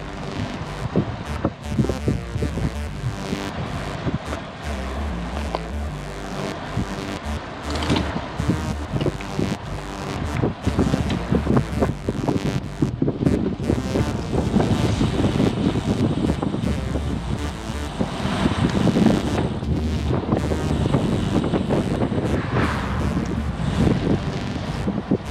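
Strong wind buffeting the microphone on an outdoor bike ride, a loud continuous roar with gusty surges throughout, no speech.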